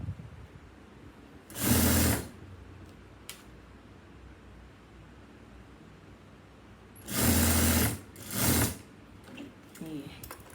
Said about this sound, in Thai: จากนั้นเราก็เย็บต่อตะเข็บหลังอีกชิ้นหนึ่งนะคะ